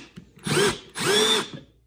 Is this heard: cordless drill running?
yes